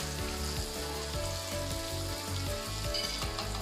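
Onions frying in a pan for masaledar kale chane give off a steady, close sizzle with occasional stirring, continuous and fairly quiet with no talk.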